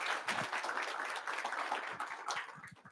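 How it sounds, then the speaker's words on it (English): Scattered applause from a board of education meeting crowd, a loose patter of many hands clapping at moderate distance, steady for a few seconds and tapering toward the end. "let's recognize her by giving her a round of applause"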